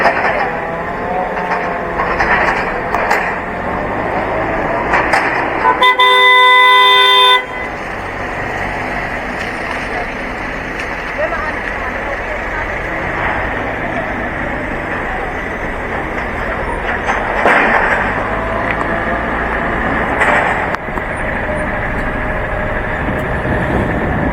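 Cars rumble past on a hurricane-damaged street in Jamaica, with a steady loud traffic roar and one sustained bright horn blast of about a second and a half partway through.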